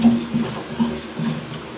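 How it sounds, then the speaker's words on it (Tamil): Water being poured from a tumbler into a cooking pot while making biryani: a few short splashing gushes in quick succession, moderately close. "இப்போ இதில் வந்து 4 டம்ளர் தண்ணி இதுலேருந்து ஊற்ற போகிறோம்."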